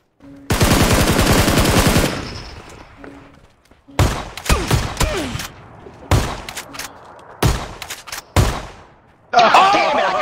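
Rapid bursts of gunfire from a first-person shooter game, a dense automatic volley at the start followed by scattered single shots and short bursts, loud and close.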